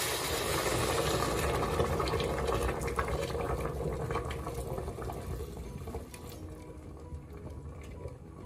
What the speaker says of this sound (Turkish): Şimdi sıcak suyu ekliyorum.